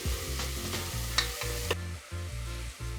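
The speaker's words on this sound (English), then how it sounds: "Let's get out a large pot, heat it with a little olive oil, and sweat the onions." Onions sweating in olive oil in a large pot, a steady close sizzle with a few stirring scrapes and clicks and no voices.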